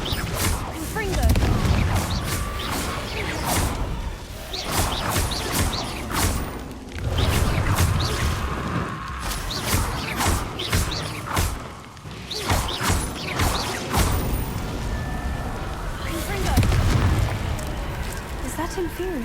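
Repeated booming blasts of the Confringo explosive spell in the video game Hogwarts Legacy, loud crashing bursts arriving every second or so over a dense, continuous backdrop of combat effects.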